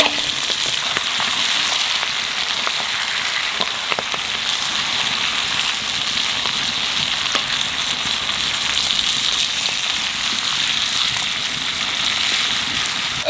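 Vegetables frying in fish oil in a pan, a steady dense sizzle with crackling pops that holds at an even level throughout, close and fairly loud, with no talking.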